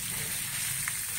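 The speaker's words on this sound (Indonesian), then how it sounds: "Saya goreng ya" Half a kilo of chicken intestines fry in a pan with a steady, close sizzle and crackle, and no one speaks.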